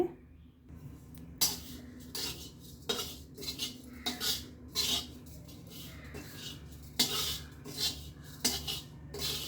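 A spoon stirs white sesame seeds in a metal pan while bisi bele bath spice powder is dry-roasted. Sharp clinks and scraping strokes come in an irregular rhythm, close and clear.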